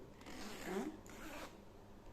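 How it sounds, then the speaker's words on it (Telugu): Zipper on a conductor's duty bag being pulled open, a single quick close rasp against a quiet room. "ఇక్కడ ఒక జిప్ ఉంది"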